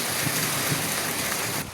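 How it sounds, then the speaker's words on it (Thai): Steady rain falls on a surface as dense, even hiss and patter, continuous and fairly close, cutting off abruptly near the end of the short stretch. "ฝนตก"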